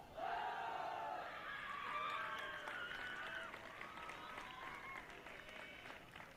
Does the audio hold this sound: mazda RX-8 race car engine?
no